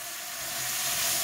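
Wild garlic flowers stir-frying with fresh shrimp in a pan give a steady, bright sizzling hiss that grows slightly louder over a brief moment, with no talk.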